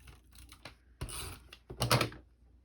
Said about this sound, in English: I'm just going to run some tape runner